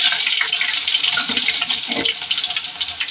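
Chopped onion hits hot cooking oil and sizzles loudly and steadily, a dense hiss running the whole time with no voice over it.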